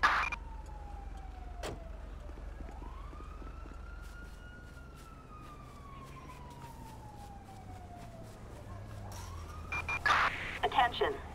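Fire truck siren responding code 3 in Grand Theft Auto V with the LSPDFR police mod, a wailing tone that sweeps slowly up and down over a low engine rumble, moderately loud, with a brief cluster of sharper sounds near the end.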